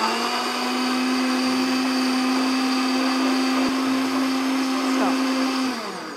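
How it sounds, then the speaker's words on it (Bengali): A kitchen blender whirs loud and steady while blending a few mint leaves, then winds down at the end. A voice speaks briefly over it. "2-4টে পুদিনা পাতা, এটাকে আমি ব্লেন্ড করব।"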